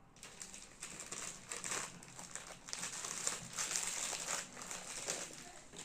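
Close, steady crinkling and crackling of a parcel envelope being handled and turned over during an unboxing, its adhesive closing strip still attached, with irregular bursts of rustle running through the whole stretch at modest volume.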